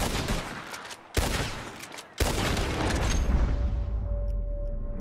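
Rapid gunfire bursts from a train robbery shootout in Red Dead Redemption 2, loud volleys of shots broken by two brief gaps, then a sustained barrage with booming tails.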